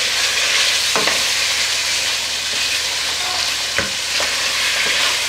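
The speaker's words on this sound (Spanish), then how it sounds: "vamos a echar las costillas para que se vayan sofriendo un poco" Pork ribs frying in a pan for a Spanish potato and rib stew, a steady close sizzle with a few sharp scraping stirs at intervals and no talk.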